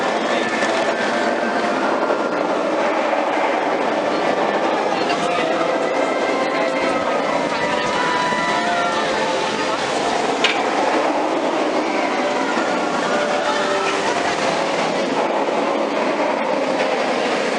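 An Alton Towers monorail train rumbles past overhead with a steady rolling clatter amid theme park background noise, while people talk nearby.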